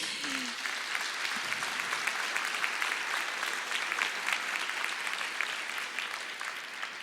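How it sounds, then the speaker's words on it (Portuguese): A church congregation clapping together in worship, a steady, even patter of many hands heard at moderate loudness throughout, with a brief voice near the start. "Então vamos adorar ao Senhor através das nossas palmas."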